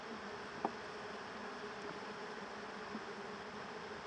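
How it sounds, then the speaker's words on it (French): Honey bees buzz at an open hive during a hive change, a steady, dense hum close at hand with a couple of faint knocks, no talking. "Les abeilles sont très calmes."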